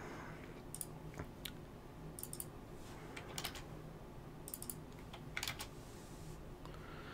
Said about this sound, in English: So just typing in 90 by 90 there.